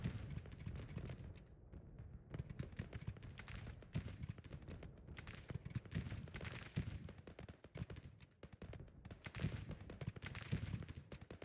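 Artillery and rifle fire rumble across a Civil War battlefield in Grand Tactician, a faint, ongoing spatter of shots and deep cannon thuds rolling on steadily for several seconds.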